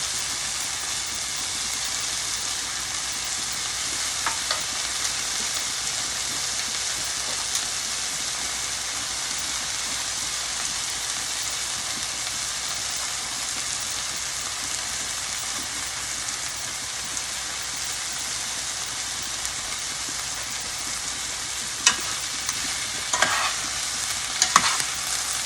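A pan-seared ribeye steak sizzles in a frying pan with a dense, even, rain-like crackle that holds steady and close throughout, a few louder pops and clatters near the end, and no speech.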